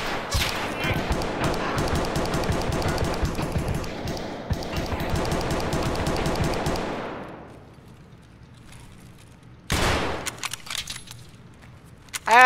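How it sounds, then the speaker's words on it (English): Pistol shots in the video game Escape from Tarkov, a rapid run of sharp cracks over about seven seconds, then quiet and a single loud shot, with brief speech mixed in. "that guy shot me in the spleen with a pistol"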